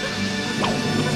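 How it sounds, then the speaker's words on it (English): A phone drops onto a hard floor and lands with a single sharp smack, short and fairly close above a steady background hum. "my phone slipped out of my pocket and smacked on the floor louder than Indiana Jones' whip."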